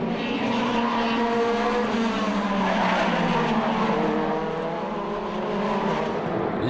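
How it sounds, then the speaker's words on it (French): Racing prototype cars, including an Italian proto and a Norma, at a race start: loud, continuous high-pitched engine wails with shifting tones and tire squeal as several cars pass close by. "Au départ, le proto italien piloté par Brandon Maisano surprend la Norma."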